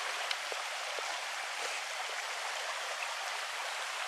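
A clear, shallow mountain stream about three feet deep rushes steadily and close by on a nature walk near a cabin, a constant broadband wash of flowing water with no voices.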